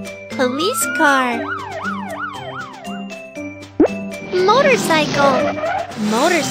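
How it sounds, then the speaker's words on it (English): Cartoon-style police car siren from a children's learning app, a wailing rising-and-falling tone repeating several times over playful music, followed by a chime and a bright jingle. "Police car, police car."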